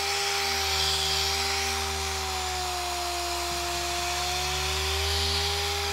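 A polishing machine hums steadily and smoothly throughout on wet-sanded car paint, a constant motor drone with a faint rushing hiss as it glides over the surface.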